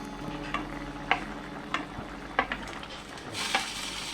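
Hilsa fish pieces go into a pan of simmering taro curry, with a steady frying sizzle under repeated close stirring clinks and scrapes of a spoon against the pan.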